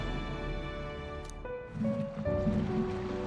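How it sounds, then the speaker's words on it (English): In the video game Metaphor: ReFantazio, water flows into a boat's hull with a soft, watery wash and sloshing under low ambient tones, growing slightly louder toward the end. "I still hear water flowing, but it's coming from inside the runner."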